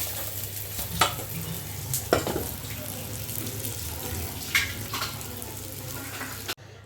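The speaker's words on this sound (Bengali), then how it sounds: "বাকি মাথা দুটো এবার আমি ভেজে নেব" Fish heads frying in oil in a wok, a steady close sizzle and crackle with a few louder spits and stirring scrapes, ending abruptly.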